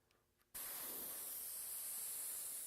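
A spray gun or aerosol switches on abruptly after a short quiet moment and keeps up a loud, steady hiss while painting a helmet.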